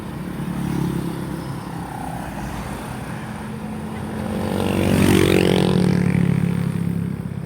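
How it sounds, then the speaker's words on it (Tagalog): A motorcycle engine runs steadily, swelling louder and rising in pitch midway as it revs, then easing slightly. The engine is fairly close, set against outdoor ambience. "Sabay takbo ang motor."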